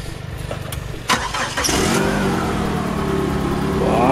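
A street-racing car with a customized exhaust cranks and fires up, rising into a loud, steady, throaty engine roar that fills the space up close after a few seconds of idle rumble, with no talking.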